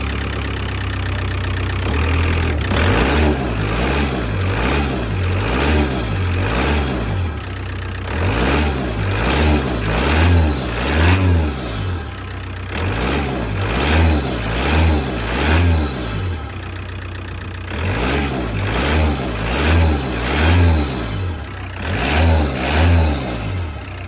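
A Volkswagen 1.9 TDI PD130 diesel engine running steadily at idle, a loud close rhythmic chugging that rises and falls in repeated waves without any clear revving, and no voices.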